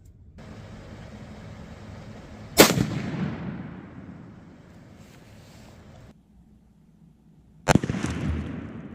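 Two loud rifle shots fired at a concrete block target outdoors, one near 2.6 seconds and another near 7.7 seconds, each a sharp crack followed by a decaying rumble over steady wind noise.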